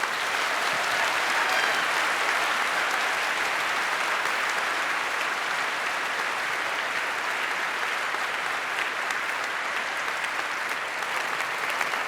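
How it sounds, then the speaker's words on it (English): Sustained applause from a hall audience at a technical conference talk on Deutschlandticket fraud, a dense steady wash of clapping lasting the whole stretch without a break. "give a huge applause to Q and Maya"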